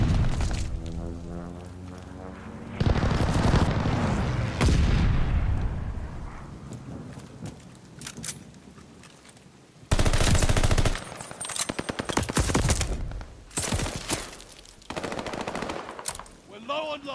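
Heavy automatic gunfire from a strafing run in Call of Duty: Vanguard, loud sustained bursts with explosive booms, cutting off and resuming in several long volleys.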